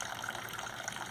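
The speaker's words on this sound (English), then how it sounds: "Maybe just the sound of the water will attract birds." Water running in a wishing-well birdbath fountain, a continuous soft gushing and trickling stream heard close up, steady and without talk.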